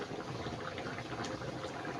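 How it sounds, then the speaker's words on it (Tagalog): A pot of chicken curry with coconut milk bubbles at a soft, steady boil, a quiet continuous simmering texture with no voices. "Kumukulo na."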